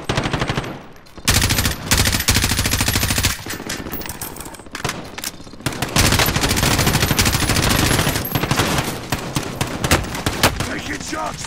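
Automatic gunfire from a firefight in Call of Duty: Modern Warfare, loud sustained bursts of rapid shots with brief pauses between volleys, broken by a short quieter gap near the start.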